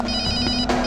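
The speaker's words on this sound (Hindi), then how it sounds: "फोन बज रही है।" A telephone ringing indoors, a loud, bright electronic ring sustained through a brief moment with a short break before it resumes.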